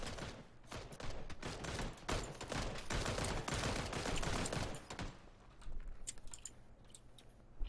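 Bursts of gunfire fill a PUBG battle royale match, dense rapid shots and volleys crackling loudly and nearly continuously, thinning into sparser scattered shots toward the end.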